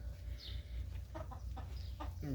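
Backyard hens in a cage in Qatar give a few brief, soft clucks over a low steady hum, fairly faint and close.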